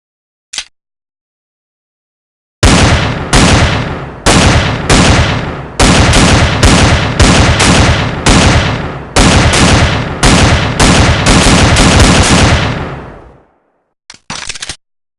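Bursts of loud gunfire ring out close by: a lone early shot, then a long run of rapid volleys separated by short gaps, trailing off before two final quick shots.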